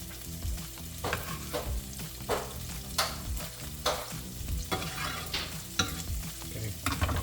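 Potatoes and chilies sizzle in a frying pan under steady crackling, while a spoon stirs and scrapes through them in repeated close clacks and scrapes.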